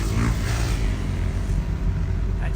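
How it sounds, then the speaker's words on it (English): Drag race cars of the Fast Fours class starting up in the staging lanes at the SCSDA Hammer Down Nationals, a loud, continuous engine rumble with occasional revs heard from across the track. "I hear a couple cars starting up over there in the lanes."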